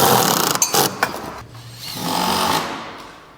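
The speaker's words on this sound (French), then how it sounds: "Du coup là on a fini de visser le bloc." A power drill drives screws to fix a climbing hold onto an indoor bouldering wall, with short bursts of whirring followed by a longer, steadier run, close and loud with no talk.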